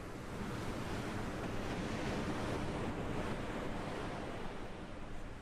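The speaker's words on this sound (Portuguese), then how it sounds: "Só o som do mar." Continuous sea surf with wind, a dense, steady roar of breaking waves that fills the whole stretch without pause or other sounds.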